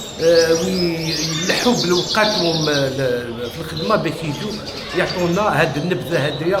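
A goldfinch sings at Algeria's fifth national goldfinch championship. Bright chirping trills run steadily under someone speaking close by.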